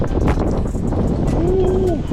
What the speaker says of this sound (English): that wind is cutting